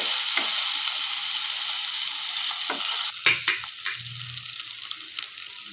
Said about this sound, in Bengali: রসুন বাটা দিয়ে আমি পেঁয়াজটার সাথে একটু ভালোভাবে ভেজে নিচ্ছি